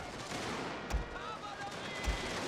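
Massed gunfire from troops in a strategy war game featuring Prussia: a steady, dense crackle of volleys with two heavier booming shots standing out amid the continuous battle noise.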